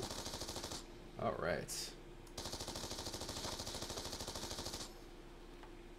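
Rapid, steady automatic fire from the Dragonfire machine gun in Black Ops 2 rattles in two long sustained bursts, broken by a short pause where a voice briefly speaks.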